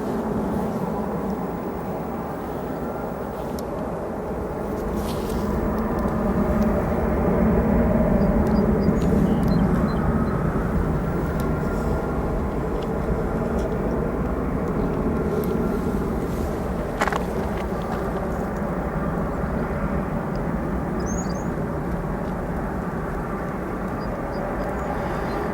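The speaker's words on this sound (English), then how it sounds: "Next arrival, 757, arriving from Los Angeles," United Airlines Boeing 757 jet arriving at O'Hare airport from Los Angeles: a steady, broad roar holds for the whole stretch, swelling slightly midway, distant and continuous with no voices.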